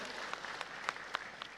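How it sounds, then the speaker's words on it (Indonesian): Faint applause from an audience at a public event welcoming Purwakarta's district prosecutor, a soft continuous patter of clapping with a few slightly louder individual claps standing out. "Ya, boleh tepuk tangan kepada Ibu Kajari."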